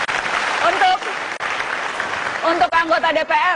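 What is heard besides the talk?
studio audience applause for Mas Ganjar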